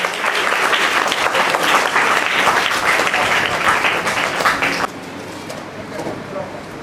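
Crowd applauding at a school-kit distribution event for needy children, lively sustained clapping for about five seconds that then drops off to quieter room noise.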